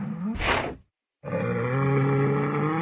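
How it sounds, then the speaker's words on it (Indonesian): Bull (banteng) calling with a short, harsh, bellowing burst, a brief pause, then a long, loud, sustained low moan, with no voices. "banteng,"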